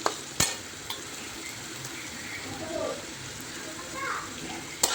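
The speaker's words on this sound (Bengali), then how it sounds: "ভালো করে নেড়ে চেড়ে ভেজে নেব আলুটা" Potatoes stir-fry in a pan for sabu pulao, a soft sizzle running under occasional scrapes and knocks of a utensil against the pan.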